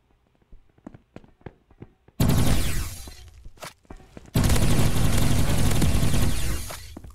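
Video game energy gun in Roblox Energy Assault: a rapid burst of sharp clicking shots, then two long, loud, continuous blasts of sustained fire separated by a short pause.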